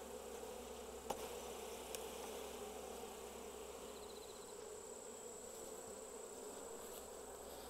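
Japanese honeybees kept in a Western honeybee hive box give a steady, dense buzzing hum, faint and continuous throughout, with no voices.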